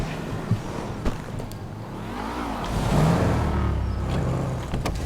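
In GTA 5, a car engine revs up, swelling to a louder whirring peak around the middle before settling, with a few clicks and thumps at the start and faint background bits.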